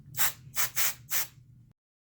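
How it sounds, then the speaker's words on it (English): Compressed air is blown at a phone screen to clear dust before a screen protector goes on. Four short, sharp hissing bursts come in a quick, fairly even rhythm, close and alone, and then it goes quiet. "I'm just going to give it a blow of that compressed air"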